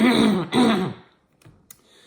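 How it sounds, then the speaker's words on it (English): Two quick, loud throat-clearing coughs close to the microphone, followed by a couple of faint small sounds. "every time I do a video, for some reason, I have to cough"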